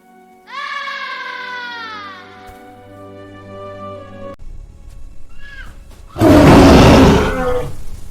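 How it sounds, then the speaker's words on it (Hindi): A lion gives a heavy, loud roar that swells late and then fades. Earlier, long tonal animal cries sound with no talking. "अचानक दूर से एक भारी दहाड़ गूंजती है।"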